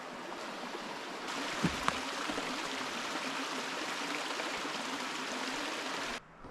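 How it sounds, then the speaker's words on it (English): Steady rushing of a waterfall-fed stream along a hiking trail, a continuous broadband wash close by with a couple of faint knocks, cutting off abruptly near the end. "More waterfalls."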